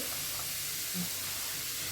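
Cabbage upperi steams in a covered pan on the stove, producing a steady, soft hiss of escaping steam throughout, close and even, with no talking.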